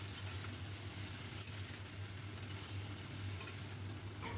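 Prawns seasoned with salt and turmeric frying in a pan with spices, a faint, steady sizzle with occasional light clicks and a low hum underneath.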